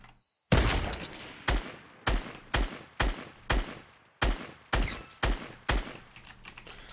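Gunfire in a Fortnite Battle Royale match, about a dozen sharp, close shots spaced roughly half a second apart in an even rhythm, each with a quick decaying tail, loud and alone without talk.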